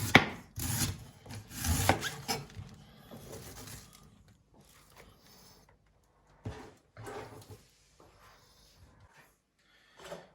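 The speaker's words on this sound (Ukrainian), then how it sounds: "Тепер натираємо морквинку одну таку крупну." A large carrot is rubbed against a grater while sauerkraut is being prepared, giving loud rasping strokes at first, then sparser, fainter scraping bursts with quiet gaps between them.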